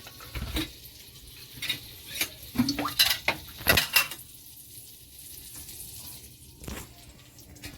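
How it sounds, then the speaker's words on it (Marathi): Butter and oil hitting a hot pan give a soft sizzle, broken by several sharp metallic clinks and scrapes of a spoon against the pan, with clusters of knocks in the middle and quieter frying between them. "आपला ही पॅन गरम झालाय, थोडा आपण बटर टाकतो 1 चमच आणि सोबतच तेल"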